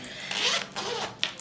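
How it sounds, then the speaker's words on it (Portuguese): A zipper is pulled closed on a small handmade fabric pouch with a lining, giving a close, dry rasping run in two short pulls with a brief pause between, heard alone without talk. "vou fechar aqui o zíper"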